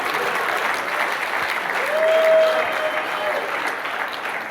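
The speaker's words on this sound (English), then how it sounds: "Let's clap it up for this man." Steady, full applause from an audience at a question-and-answer event, sustained and even throughout, with a brief whistle rising above the clapping near the middle.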